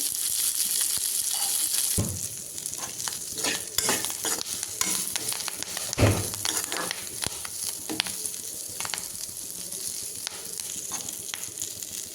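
Steady sizzling of drumstick (moringa) leaves frying in a pan, with irregular scraping and stirring strokes throughout and a louder clatter midway; no voices.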